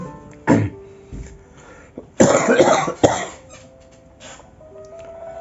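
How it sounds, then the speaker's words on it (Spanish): Several loud, close coughs, a short one first and then a harsh burst of two or three, separated by quiet breathing. "ando con un poco de tos"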